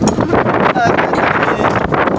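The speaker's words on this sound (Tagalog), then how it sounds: "Malakas ang hangin" Strong wind buffets the microphone in loud, gusty rushes up on scaffolding, with a voice faintly audible beneath the roar.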